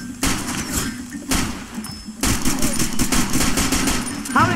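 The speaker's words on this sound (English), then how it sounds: "How many times did I shoot him in the head?" Rapid bursts of automatic gunfire in Far Cry 2, loud and close, firing in several sustained volleys separated by brief pauses, with a short voice-like sound at the very end.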